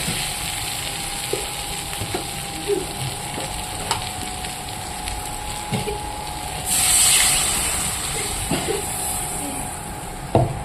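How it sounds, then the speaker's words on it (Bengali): Water goes into fried spice masala for an egg curry, setting off a sudden loud hiss partway through amid soft sizzling and occasional stirring clinks nearby. "জলটা দিয়ে দিলাম এবার এটাকে নাড়াচাড়া করে ঢেকে রেখে দেব"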